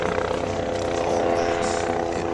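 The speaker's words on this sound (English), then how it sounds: "here comes the chopper bringing in one of the teams." A helicopter comes in to land on the first fairway of a golf course at the Tavistock Cup, a PGA golf tournament, with a loud, steady rotor and engine drone throughout.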